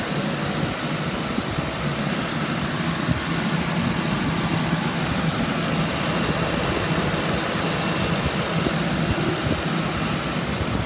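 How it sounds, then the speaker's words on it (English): A 2008 Ford Crown Victoria Police Interceptor with about 167,000 miles sits idling with a steady, smooth engine drone, close and loud, with no talking. "Motor sounds good."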